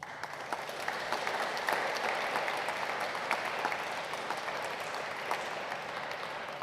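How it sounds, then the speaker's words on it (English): An audience at a poetry anthology launch night claps after a poem, a steady, moderately distant wash of clapping that holds evenly throughout without voices. "It's quite tiring clapping between each poem, isn't it?"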